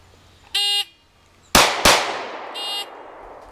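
Smith & Wesson M&P pistol shots fired in a quick timed shield-shooting string: two sharp, loud cracks about a third of a second apart, with electronic shot-timer beeps before and after.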